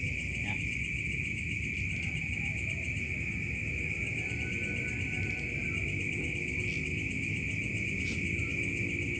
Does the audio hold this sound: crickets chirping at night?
yes